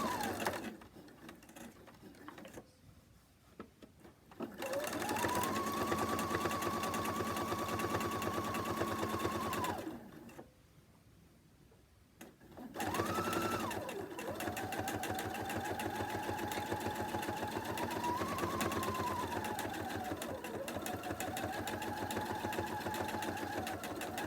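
A sewing machine stitches quilt fabric in long, steady runs of rapid mechanical whirring with a rising and falling pitch, broken by two brief pauses where the motor stops.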